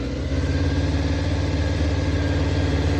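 A Honda CBR600F4 motorcycle engine idles steadily at about 1500 RPM after a carburettor cleaning, a close, even low-pitched hum with a constant pulsing drone and no voices.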